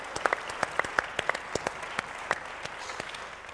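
Scattered applause from an audience at the Scottish Labour Party annual conference, a thin run of distinct individual claps at moderate distance, fairly quiet and sparse, tapering off toward the end.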